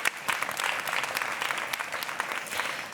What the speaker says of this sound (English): A round of applause for Marcus Gabriel.